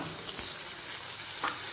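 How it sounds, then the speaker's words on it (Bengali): Mixed vegetables, papaya, green banana, carrot and beans, fry in a pan with fish, giving a steady, close crackling sizzle with a couple of brief stirring scrapes. "সব কটা সবজি দিয়ে আবারও ভালো করে 1 মিনিট ভেজে নেব"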